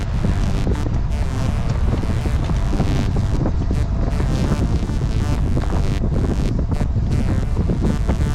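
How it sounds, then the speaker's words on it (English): Strong wind rushing past during a winter road bike ride, a steady loud broadband roar and buffeting over the microphone with no talk, continuous for the whole stretch. "You hear the wind."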